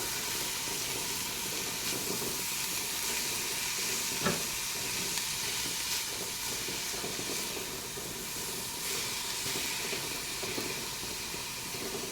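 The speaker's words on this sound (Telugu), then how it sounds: "కొన్ని చిల్లీ, ఎక్కువ ఫ్రై చేయక్కర్లేదు, కొంచెం చాలు." Chilies frying in a pan with a steady, even sizzle and hiss throughout, close and moderately quiet, with a brief clink partway through.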